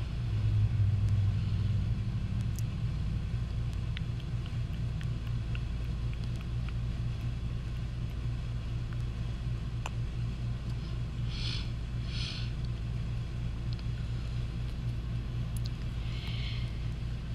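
A heavy mud truck's engine drones with a low, steady rumble as it drives, strained and continuous throughout, with faint higher rattles and hisses passing over the top.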